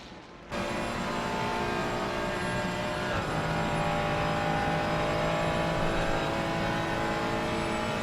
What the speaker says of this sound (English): Even the Porsche pulling away on the straight, that acceleration on that Porsche is something special